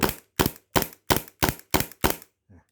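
An HPA-powered airsoft pistol fires a rapid string of seven sharp, evenly spaced shots at close range, followed by a faint mechanical click.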